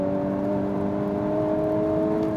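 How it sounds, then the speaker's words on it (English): Honda Civic Type R accelerating on a race track, a loud, steady engine drone with tonal whine, heard from inside the car, continuous and without speech. "It just always feels so quick in a straight line, the Civic."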